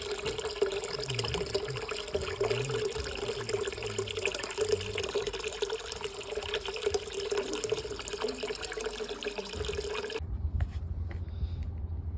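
Steady water rushes and hisses through household plumbing pipes for about ten seconds, then cuts off, leaving a faint low hum and a few small drips.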